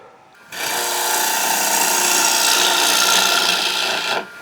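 A woodturning gouge cuts into a spinning closed-form bowl on a lathe, making one continuous, close, bright shearing hiss that lasts about four seconds and ends abruptly as the tool is lifted.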